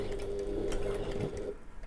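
Sewing machine stitching fabric on a bag project, a steady mechanical whir running for about a second and a half before stopping.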